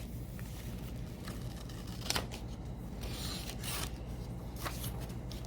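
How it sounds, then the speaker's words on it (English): Scissors snipping through paper picture cards during a classroom sorting-activity demonstration, soft close-up cuts and rustles at an irregular pace, with no talking. "So he's cutting. He would cut out all of them up."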